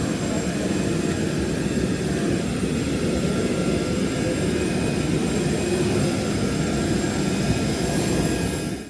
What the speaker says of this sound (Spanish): aquí estamos a la espera para montarnos en el avión